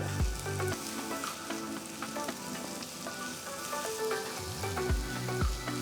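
Steady sizzling of ginger garlic paste and onions frying in hot oil, with occasional stirring scrapes and clinks close by.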